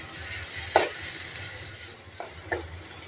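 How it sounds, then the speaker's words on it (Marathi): Chopped onion with turmeric softening in a pan over a low flame for cluster bean sabzi: a steady low sizzle with a few sharp spatula clinks and scrapes as it is stirred, close and without talk. "त्याच्यात कांदा टाकून घ्यायचा आहे। कांदा आपल्याला थोडा नरम करून घ्यायचा आहे।"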